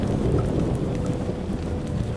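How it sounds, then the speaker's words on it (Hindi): Steady rain falls on a dark night near a railway station, a continuous dense hiss of drops with a low rumble underneath, loud and unbroken throughout with no voices. "अरे इस काली रात में ये बारिश कितनी डरावनी लग रही है।"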